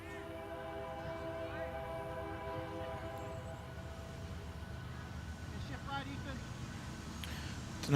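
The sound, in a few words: train horn sound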